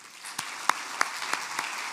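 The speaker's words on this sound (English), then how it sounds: "let's applaud Skip Myers and Justin Smith" Audience at an awards ceremony applauds in a brief, moderate burst with a few sharp individual claps standing out, no voices over it.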